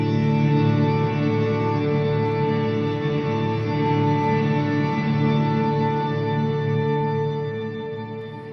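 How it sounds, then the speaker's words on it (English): A sustained guitar chord drenched in reverb with no vibrato or modulation, steady and organ-like with no wavering, slowly fading toward the end. "if I play the reverb patch that we're gonna see in a minute, but without the vibrato"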